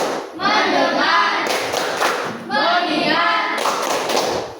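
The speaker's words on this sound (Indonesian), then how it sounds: "Tepuk fokus." A whole class performs a focus clap routine: loud group chanting alternates with clusters of rhythmic hand claps and thumps. The sound is close and energetic, with voices dominating most of the time.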